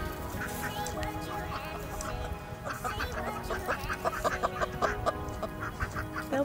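Several chickens cluck and squawk up close in a busy, overlapping chorus that grows more excited toward the end.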